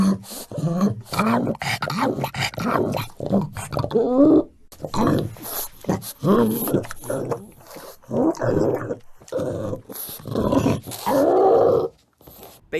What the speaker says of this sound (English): Like that is the noise of the flood, like some horrible monster sounds.